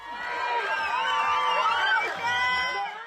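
A crowd cheers and shouts to welcome home a freed hostage, excited voices and whoops rising together at close range in a loud, continuous burst.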